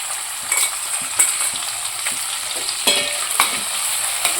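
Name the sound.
sliced onions frying in oil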